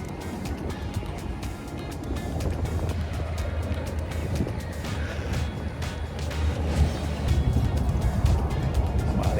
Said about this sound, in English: Our airboat ride's about to start.